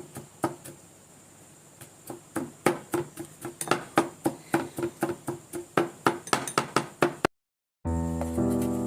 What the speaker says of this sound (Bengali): কাটছি রসুন